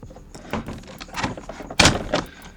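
A small plastic cage slides into the trap door of a Masters of the Universe Origins Snake Mountain toy playset, giving soft scraping and a sharp plastic click near the end, close up.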